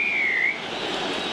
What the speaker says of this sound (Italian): 3-2-1, fischio.